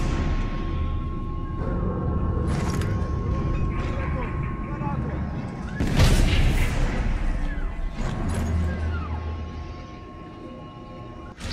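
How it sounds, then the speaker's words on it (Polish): In the video game Sniper Elite 4, a suppressed gunshot is followed by a heavy explosion that swells into a loud, rumbling burst midway through, set against continuous dense game ambience and rumble. "Zagłuszony strzał idealnie wybuchł,"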